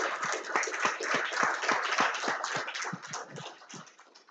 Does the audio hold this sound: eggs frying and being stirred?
no